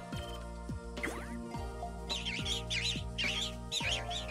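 Chirpy video game bird calls repeat in short warbling bursts over a bouncy musical backdrop, several quick trills spaced about half a second apart.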